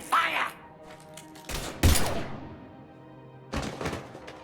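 Gunfire in Mass Effect 3, a few separate heavy bursts of shots with quiet gaps between them, close and punchy, alongside a short stretch of game sounds and voice.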